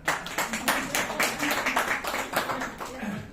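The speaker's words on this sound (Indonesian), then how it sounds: "Tepuk tangan anak-anak." Children clapping in a rhythmic, patterned burst, with sharp claps repeating at a brisk beat, fairly close and moderately loud throughout.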